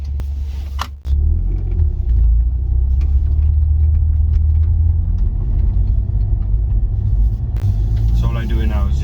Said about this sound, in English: I get to drive the Audi S1 on the roads properly